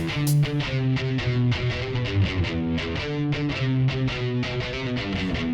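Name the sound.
electric guitar riff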